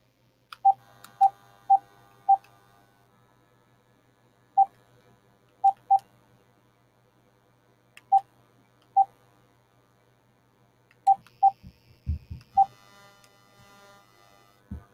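Telephone keypad tones beep one by one as a number is dialed, about a dozen short, clear, evenly pitched presses in bursts with brief pauses, followed by a few soft handling clicks near the end, with no talking.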